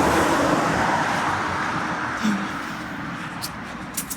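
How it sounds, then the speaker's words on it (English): Steady road traffic rumbles along a busy route in industrial Melbourne, heavy trucks passing in a continuous broadband drone with a slight swell midway and no single vehicle standing out. "I couldn't hear myself think over the noise of the trucks"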